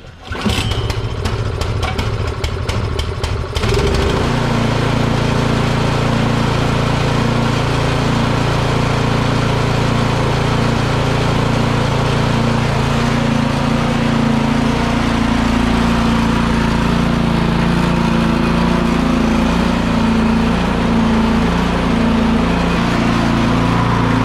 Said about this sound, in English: Now start up the snow blower.